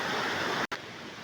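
Water rushing steadily through a rocky stream of large and small boulders near a waterfall in Phetchabun, a dense continuous wash broken by one brief cut.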